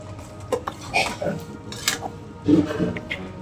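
Sangri pods stirred in a cooking pan produce light metallic scrapes and clinks in irregular bursts, close by, with a voice talking over them.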